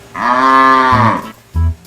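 A loud, drawn-out moo from a carabao, followed by a short low grunt.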